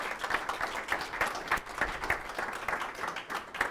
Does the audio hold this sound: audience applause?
yes